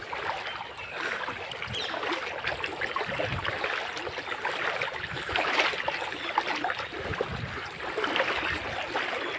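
Assam floodwater pouring out from inside a flooded house, a steady rushing, gurgling flow heard close up and continuous, with no talking.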